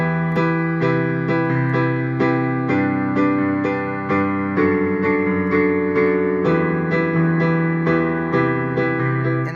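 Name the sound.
piano playing riff from an unreleased song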